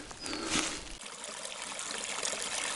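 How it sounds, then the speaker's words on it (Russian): Snowmelt trickles over a small forest waterfall, a soft continuous splashing and gurgling heard close by with no voices. "Вода бежит."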